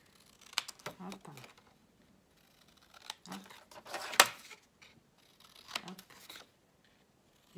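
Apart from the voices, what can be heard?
cutting paper corners with scissors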